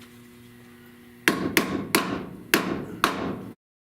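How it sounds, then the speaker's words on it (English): Hot, partly welded steel hammered down to bend it during rust repair near a car's front windshield. Five loud, sharp hammer strikes land at a steady pace, each ringing briefly before an abrupt stop, with no talk. "So I just want to hit this and bend this down the best I can."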